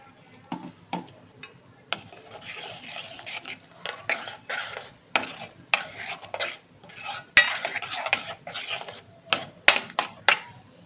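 A utensil scrapes and clacks against a pan in irregular strokes as onion-coconut paste is sautéed for red amaranth, with a soft sizzle underneath, close and moderately loud.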